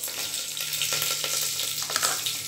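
Curry leaves and mustard seeds frying in hot oil make a dense, steady crackling sizzle with small spitting pops, close and moderately loud, and no voices.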